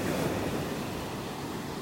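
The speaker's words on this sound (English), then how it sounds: "The sound of the waves." Ocean waves wash onto a beach in North Naples, Florida, a soft, steady hiss of surf with light wind, faint and distant and without voices.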